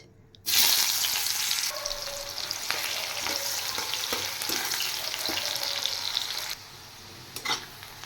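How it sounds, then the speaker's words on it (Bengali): Chopped onion goes into hot oil left over from frying fish for a bele fish curry, bursting into a loud, bright sizzle after a brief quiet start. The hiss continues steadily, then drops to a softer crackle near the end. "এবার আমি দিয়ে দেব কুচিয়ে রাখা পেঁয়াজ।"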